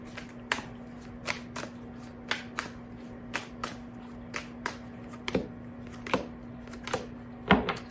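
Tarot cards are shuffled and drawn by hand. About a dozen quiet, crisp slaps and riffles come at an uneven pace over a steady low hum, with no voices.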